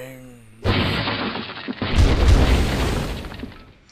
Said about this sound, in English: Particle systems are used to drive things like the crates exploding